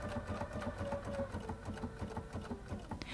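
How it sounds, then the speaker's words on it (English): A Bernina Artista 180 sewing machine stitching a buttonhole into fabric, a steady, fast rhythmic mechanical whir and needle chatter running continuously at close range, fairly quiet. "Begin sewing."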